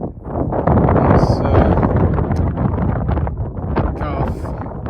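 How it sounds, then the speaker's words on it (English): Strong wind on an open hillside buffets the microphone in continuous roaring gusts, loud and close, with some faint movement noise underneath. "too windy for the drone"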